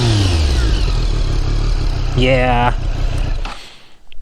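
A 2019 Triumph Street Triple RS motorcycle engine revs up with a rising, throaty exhaust roar, loud and close, while someone talks over it.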